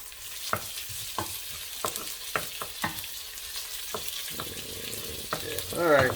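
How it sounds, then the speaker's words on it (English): Fresh garlic sautéing in a pan for homemade Italian tomato sauce, a soft steady sizzle broken by sharp utensil taps and stirring scrapes against the pan, close and moderately quiet. "freshly sauteing garlic in the kitchen"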